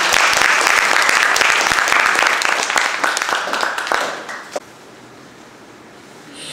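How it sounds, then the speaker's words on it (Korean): Audience applause at a talk concert in Mungyeong, a loud dense burst of clapping that fades out after about four seconds into quiet room tone. "큰 박수로 맞이해 주시기 바랍니다."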